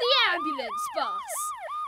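A wailing ambulance siren sweeps up and down in a fast repeating cycle, loud and close, with a voice briefly at the start.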